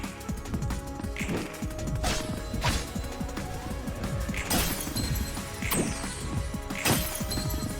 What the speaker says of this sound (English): Hear the breaking glass there of losing the clashes.